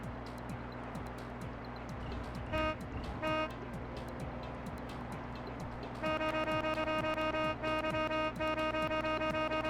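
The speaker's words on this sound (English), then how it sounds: "Everyone loves it when you honk your horn." Car horn honks in The Getaway, several short bursts followed by a long sustained blare, loud and close over steady engine rumble and city traffic noise.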